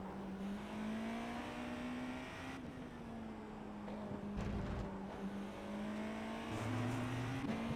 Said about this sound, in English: So at least you're getting to hear the sick Porsche engine.